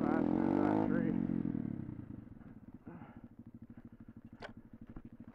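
A small pit bike engine idles after a loud burst of revving fades away, settling into a steady, rapid putter close by on an outdoor trail.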